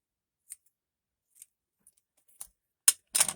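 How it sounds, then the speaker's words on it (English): Scissors snip through paper in a quiet room, a few sparse, crisp cuts spaced about a second apart, then two sharper, louder snips close together at the end, with no talking. "Let's cut this off a little bit. Cut this side off a little bit."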